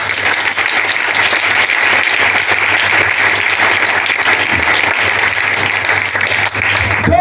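A church congregation bursts into loud, sustained applause, a dense wash of many hands clapping that holds steady throughout with faint voices mixed in.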